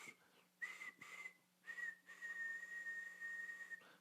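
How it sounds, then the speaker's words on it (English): A person whistles a sustained, slightly wavering single note in three separate bursts, getting longer each time, with short pauses between them. Practice before playing an E harmonica. "we whistle first to get our mouths into the proper shape to achieve a nice clear single note"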